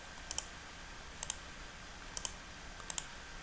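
Computer mouse clicks in quick pairs, four double-clicks spaced about a second apart, close and crisp against a quiet room.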